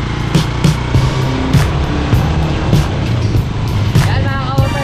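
A motorized tricycle engine runs steadily near and loud, its rumbling drone continuing throughout with repeated rattles and bumps, crossing toward a collapsed bridge in Barangay Bantilan.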